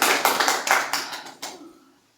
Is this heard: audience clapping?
yes